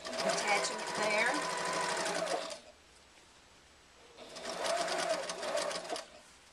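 Sewing machine stitching a wallet's pocket lining to its outer pocket, a close, steady, fast mechanical whir in two bursts with a quiet pause between, no talk.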